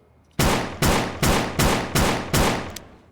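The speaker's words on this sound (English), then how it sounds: "another gun that has a lot of aura, the RDZ. It's a revolver" RDZ revolver firing in Aneurism IV: six loud, close shots in an even rhythm, each a sharp crack with a short decaying tail, followed by a faint click.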